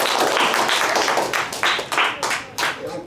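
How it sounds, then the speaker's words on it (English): Brief applause at a cooking demo, close and uneven, with a few distinct hand claps standing out as the clapping tapers off. "it's a round of applause for Talia"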